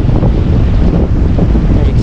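Steady wind buffeting the microphone over a continuous broadband wash of ocean surf, on a cliff edge overlooking Dreamland Beach in Bali; loud and unbroken throughout.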